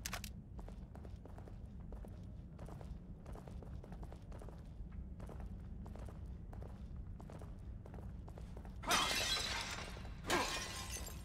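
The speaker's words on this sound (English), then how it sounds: "A smashing pots with a glass bottle." In The Evil Within video game, pots are smashed with a glass bottle in a catacomb: a steady stream of footsteps and low rumble, then two sharp shattering crashes near the end, with no talk.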